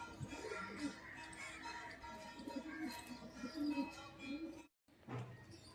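Soft, repeated cooing of pigeons kept for sale, one a wild pigeon, low and throaty, with faint background rustling and distant noise.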